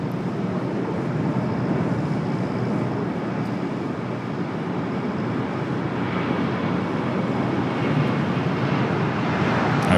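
An EVA Air airliner takes off from the south side of LAX, a broad continuous jet roar held at a steady level throughout, heard from a distance with no talk.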